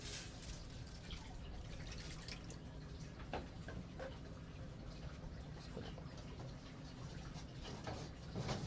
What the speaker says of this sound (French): Dans lesquelles je vais aussi verser de l'eau de mer.